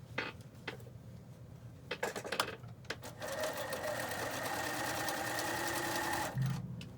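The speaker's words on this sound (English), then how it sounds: "My sewing machine's a little more quiet for the video" A home sewing machine stitches a fabric face mask seam: a few short clicks and stops at first, then a steady, even whirring run of stitching for several seconds, close and fairly quiet.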